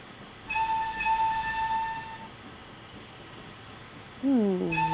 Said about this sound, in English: I don't recognize the whistle though.